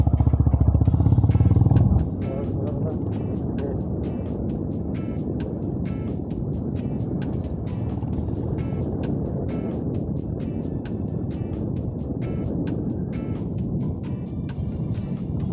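A Honda CB 350 RS motorcycle on an evening road ride, with a steady low engine rumble and wind buffeting the microphone; a brief louder burst opens before the ride settles into an even drone.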